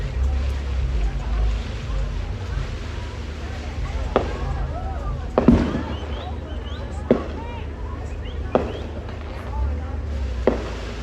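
Booms from a town fireworks show crack out every second or two at a distance, above a low rumble and the murmur of a crowd.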